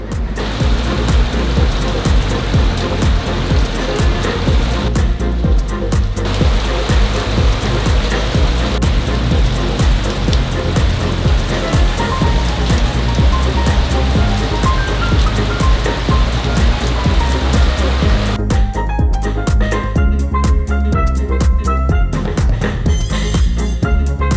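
Heavy squall rain pours steadily onto a yacht moored in a marina, a loud, dense and continuous wash of water drumming on the deck with no letup.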